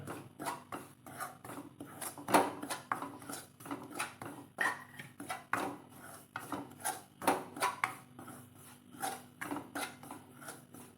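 Maida flour roasts in a pan while a spoon or spatula stirs and scrapes it, giving quiet, irregular rasping and clinking strokes close by, with no one talking.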